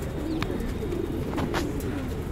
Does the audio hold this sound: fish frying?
no